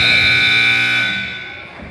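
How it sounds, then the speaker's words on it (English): A basketball game buzzer marks the end of the first quarter with one loud, steady electronic blare that holds for over a second and then fades under arena noise. "the buzzer sounds the end of the first quarter"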